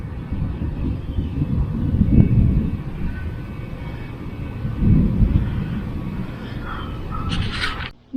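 Distant thunder rumbles before Hurricane Dorian arrives, two broad low swells a few seconds apart over a continuous dull roar, ending with a brief sharp noise.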